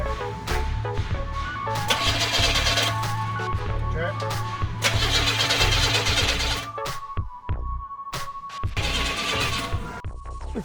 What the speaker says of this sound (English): so now we're just gonna test to see if it starts up